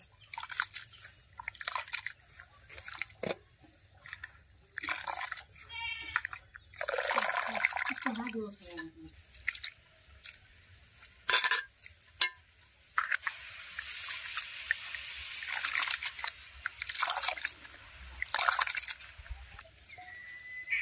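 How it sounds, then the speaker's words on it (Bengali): Raw potatoes washed by hand in a bowl of water, with the water changed several times: intermittent sloshing, splashing and pouring, with clattering pieces and a trickling stream of water. "জল পাল্টে পাল্টে 4 থেকে 5 বার ভালো করে ধুয়ে নেব।"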